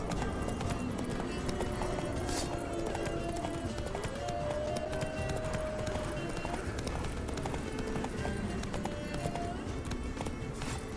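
Hooves clip-clop in a fast, steady gallop as a horse runs in The Witcher 3, under continuous game music and ambience, with a voice speaking partway through.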